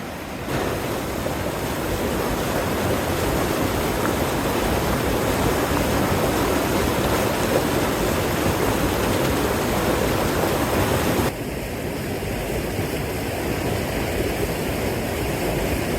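A small waterfall at Cedar Creek Falls near Yacolt, Washington, among huge boulders, pours as a steady, loud, close wash of white rushing water, with a slight shift in tone partway through.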